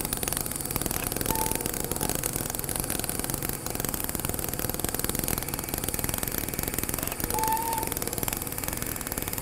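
A welding arc during combined TIG and MIG work, a continuous loud, rough crackling buzz like a tattoo machine, steady throughout with a couple of faint whistling tones, no talk.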